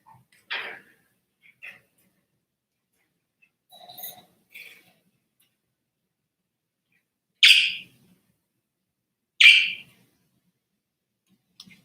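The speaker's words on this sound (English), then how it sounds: "You might hear my little bird in the background." A small pet bird chirps in short, sparse calls from across a quiet room, a few faint early peeps followed by two louder, sharper chirps a couple of seconds apart.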